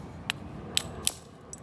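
A stone biface is knapped by direct percussion, giving three or four sharp, bright clicks at uneven intervals, close and fairly quiet over a low background hum.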